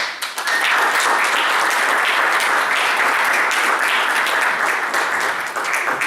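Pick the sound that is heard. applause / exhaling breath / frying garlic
applause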